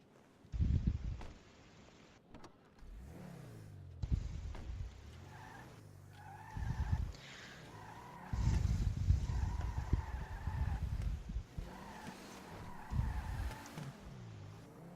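Car tires skidding and screeching in Grand Theft Auto V, several sharp squeals between bursts of engine revving, loud and close, with game music and effects around them.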